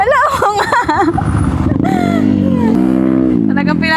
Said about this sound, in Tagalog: Talagang pinapasikatan niya ako ng motor niya. Binabarurot ang binabarurot.